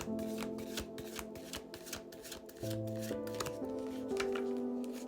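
Tarot cards shuffled by hand, giving a run of soft riffling snaps and taps over steady background music with sustained tones; no talking.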